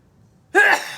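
A single sharp sneeze bursts out close by after a moment of near silence, then trails off.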